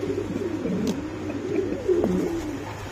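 A male pigeon coos in low, throaty bursts close by, repeated over a soft background hum with no talking.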